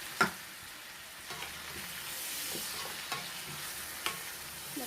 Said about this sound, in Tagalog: Lagyan natin ng kunting toyo para magkalasa. Mix natin.